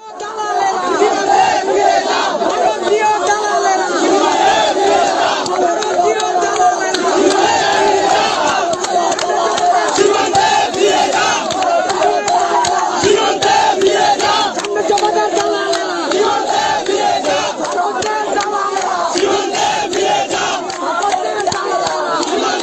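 A large crowd of protesters chanting slogans in unison, loud and dense, with rhythmic shouted phrases running without a break throughout.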